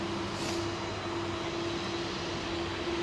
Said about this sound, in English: Is that Air China 330? I think he's possibly going to he's just landed, isn't he?